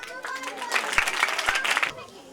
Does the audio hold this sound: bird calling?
no